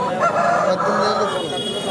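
A fighting cock of the Abbarsa type crows briefly at the Saturday game-fowl market in G. Mamidada. The call is short and sits within a steady crowd murmur and nearby voices.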